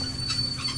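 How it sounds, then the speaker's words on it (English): Rolling train interior from The Walking Dead Season One video game, a steady low rumble of wheels on track with a persistent high metallic whine and brief swells of squealing, close and continuous with no voices. "riding on a train through the beautiful Georgia countryside"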